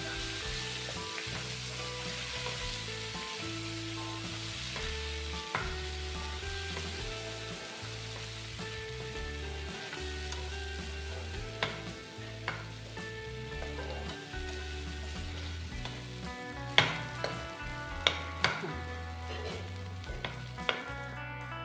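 Nalleru chutney frying and being stirred in a pan, a steady sizzle with periodic scraping strokes and a few sharper clinks near the end, with no talk and background music running underneath.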